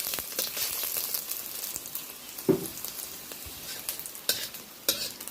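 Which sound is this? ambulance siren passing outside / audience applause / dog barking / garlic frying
garlic frying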